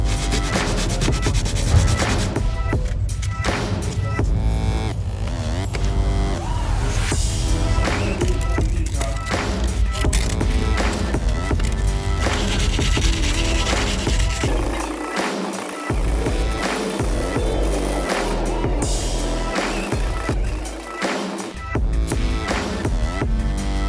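A car body scratch is rubbed with 180 grit sandpaper, a close, harsh rasping that runs steadily throughout with brief pauses between strokes.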